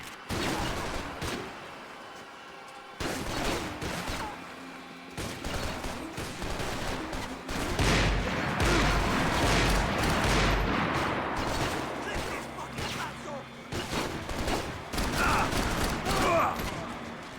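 Gunfire in a firefight in the video game Max Payne 3, dense bursts of shots and heavy automatic fire for most of the stretch, broken by short pauses, loud and close.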